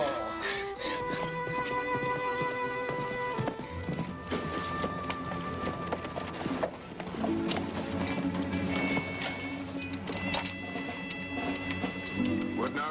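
Rhythmic hoofbeats clop along amid busy music and mechanical clatter, steady and fairly close, with a brief pause midway before resuming.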